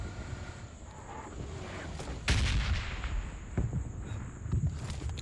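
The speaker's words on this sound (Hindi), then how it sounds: "वहीं पे सामने फायरिंग की आवाज़ आती है।" Gunfire in the video game PUBG Lite: a few loud, sharp shots crack over a constant windy outdoor ambience, with one heavy burst standing out among fainter reports, no talking.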